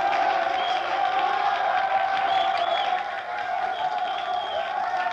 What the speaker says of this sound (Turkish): Alkışlarınıza yürekten teşekkür ederim.